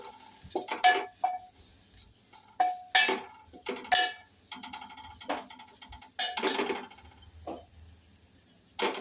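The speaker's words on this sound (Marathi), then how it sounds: "ते बेसन टाकणार आहोत आणि ह्याला छान असं मिक्स करून घ्यायचं आपल्याला" Gram flour is stirred into kadhi in a pot, making a run of sharp, close clinks and scrapes as a spoon strikes the vessel, irregular and bursty with brief quiet gaps between strokes.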